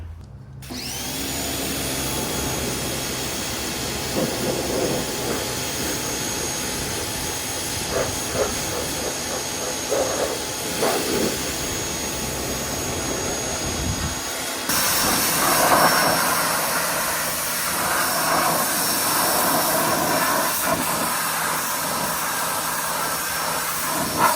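Pressure washer spraying moss and grass off Alaska moose antlers: a loud, steady hiss of water spray running almost unbroken for over twenty seconds, growing harsher partway through, close by and with no talking.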